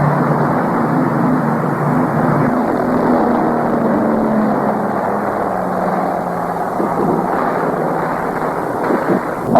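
A steady, loud engine drone from a military aircraft flying overhead during the Vietnam War, with a propeller-like rumble that holds for the whole stretch.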